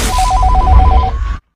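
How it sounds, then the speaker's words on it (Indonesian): A phone ringtone trills in a fast two-tone pattern for about a second over a low rumble, then cuts off abruptly. "setelah mendengar ponselnya berdering"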